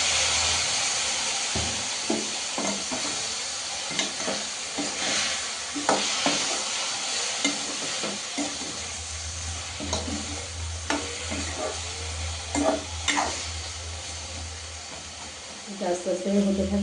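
Vegetables for Bengali sukto sizzling in a pan as a spoon stirs and scrapes, a steady close hiss with repeated clinking strokes, while someone talks over it.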